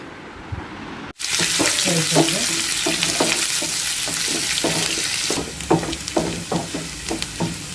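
Spices hit hot oil with a sudden loud sizzle that settles into steady crackling and popping, close up, with faint stirring.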